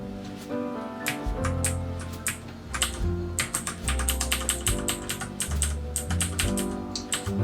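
Computer keyboard keys pressed rapidly while playing Streets of Rage 4, a steady run of close clicky taps under loud game music.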